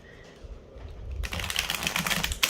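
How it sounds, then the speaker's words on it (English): A large tarot card deck split in half is riffle shuffled: a quiet shuffle of cards first, then a dense burst of fluttering, ticking card snaps close by. "I broke it up in half so I can riffle shuffle"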